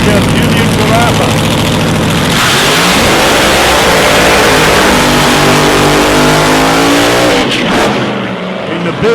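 Supercharged 1941 Willys drag car with a 536-cubic-inch Keith Black engine at a raceway eliminations round, a loud, continuous engine roar that swells and revs up hard, then drops away near the end, with announcer talk over it.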